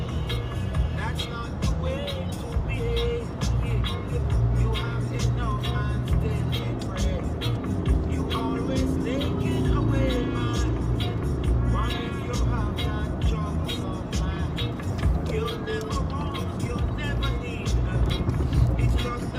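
A truck drives along a road on errands, a steady engine and tire rumble that holds for the whole stretch, with a voice talking over it.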